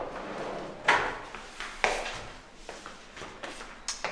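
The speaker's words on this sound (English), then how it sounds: "And here's some big drawer." A big drawer slides open and shut with several sharp knocks and scraping thuds in an irregular rhythm, close and clear in a quiet room.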